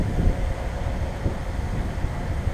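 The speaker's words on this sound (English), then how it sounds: "And it is pretty windy out" Strong wind buffeting an outdoor microphone during a DJI Mavic 2 Pro drone flight, a continuous low rumbling roar with gusty fluctuations and no clear break.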